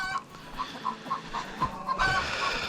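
Hens in a backyard coop cluck in repeated short calls, close and fairly loud, with a brief burst of livelier clucking near the end.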